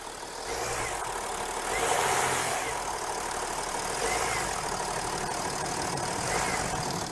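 A hot 3-litre TDI diesel car engine runs steadily and is given light throttle, rising in a few gentle surges of revs over a broad, continuous mechanical roar.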